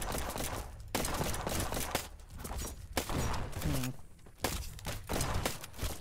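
Pistol and shotgun gunfire in the airship combat game Black Skylands, with dense overlapping shots and bursts over game background noise and occasional sighs, running through the whole stretch.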